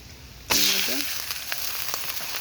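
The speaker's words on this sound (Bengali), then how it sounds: "এবার চিকেনটাকে একটু ভালো করে ভেজে নেবো" Washed chicken pieces dropped into a pan of hot oil with fried onions, bursting into a sudden loud sizzle that settles into steady frying with a short voice at the start.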